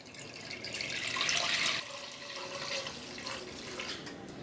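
Thick undiluted milk, about 1.5 litres, poured steadily into a heavy-bottomed pot at home for making paneer, a continuous close liquid splash and gurgle that briefly swells then settles.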